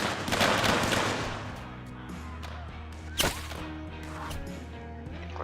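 Musket volleys from troops in Mount & Blade Warband crack out as one sharp, loud report in the middle, with a rumbling burst of fire early on over a steady low game background.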